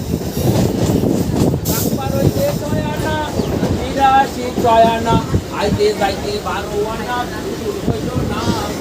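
A Kolkata Blue Line metro train runs between Kavi Subhash and Dakshineswar, its steady rumble and rattle continuing throughout under loud, crowded passenger chatter, with several brief squeals and clatters along the way.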